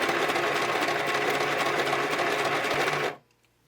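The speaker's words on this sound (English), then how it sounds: "I'll start with a simple running stitch and then do a little bit of zigzag" A sewing machine stitches zigzag on a paper journal pocket. The close, steady, rapid mechanical whirr runs for about three seconds, then stops abruptly into near silence.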